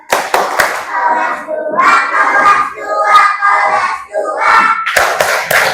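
A grade 2 class of children does a clapping chant in a classroom: sharp unison hand claps open and close the passage, with the children's voices chanting rhythmically in between.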